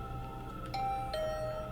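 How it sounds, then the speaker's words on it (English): An electronic doorbell in The Hundred Line: Last Defense Academy chimes two quick tones, faint and clean against a quiet, low background hum. "My heart did a somersault when my doorbell suddenly rang."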